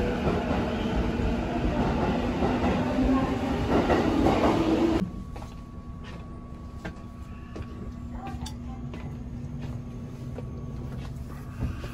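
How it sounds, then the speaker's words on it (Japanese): A train rumbles loudly with rattling and clatter, then the noise drops abruptly to a quieter steady hum with faint clicks, as if from inside a carriage. "かっこええかっこええ電車乗るで"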